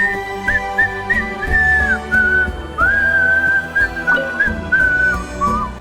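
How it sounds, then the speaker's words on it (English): Whistled melody drifting over a steady musical backing in the NightWind tribe's area of a video game, a clear, gliding tune carried along continuously in front of the accompaniment. "This area also has whistling music."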